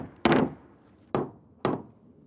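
Three separate knocks on a Hebel Power Floor panel, an aerated concrete flooring substrate, each a solid, dull thud that dies away quickly, heard up close with no voices.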